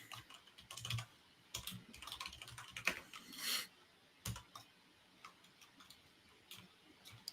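Computer keyboard typing comes in quiet, irregular bursts of sharp clicks and key taps, close but soft, with short pauses between flurries and no voices.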